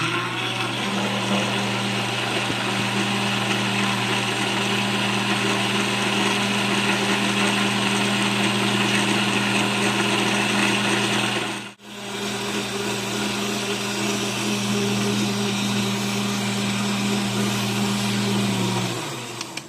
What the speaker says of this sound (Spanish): y licuamos nuevamente, prendemos la licuadora.